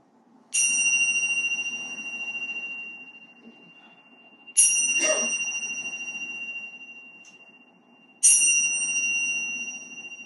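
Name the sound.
bell being struck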